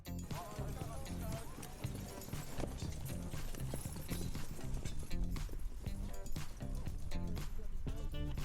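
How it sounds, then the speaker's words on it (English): Royal Guard horse hooves clip-clop steadily under a loud, dense wash of parade crowd noise and voices, the rhythm continuous throughout. "a horse does actually manage to break free and pushes the rider into the dirt"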